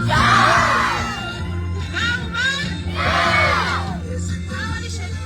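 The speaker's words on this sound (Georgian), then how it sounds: "ერთი ომახიანი შეძახილი ნეფე-დედოფალს გავხართ!" Wedding guests in Gurdzemi cheer and shout for the bride and groom in two loud crowd bursts of whoops and yells, with a brief lull between them.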